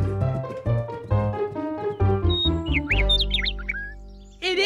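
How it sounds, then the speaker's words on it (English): A cartoon-like bird chirps and sings in a bright, rapid flurry in a children's TV episode, heard after a stretch of light instrumental music, fairly loud and close. "Can you hear that? It sounds like Little Bird!"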